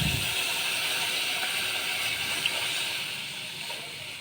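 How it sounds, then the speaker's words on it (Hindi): Milk is poured into a hot pan of fried ingredients, bringing a broad, steady hiss and sizzle that holds strong, then gradually fades and softens toward the end. "अब मैं इसमें ऐड कर रही हूँ ये दूध"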